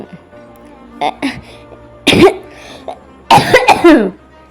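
Several harsh coughing bursts, close and fairly loud, with a short cough early on and two longer fits separated by pauses.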